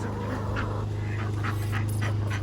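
Ducks quacking outdoors in a garden, a series of rhythmic honking quacks at moderate distance over a steady low mechanical hum from a running lawnmower.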